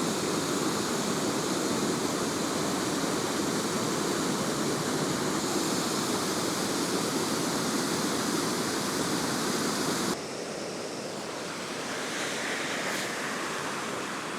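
A Connecticut waterfall swollen after rain roars as a loud, continuous rush of falling water, steady and close, then drops somewhat in level near the end.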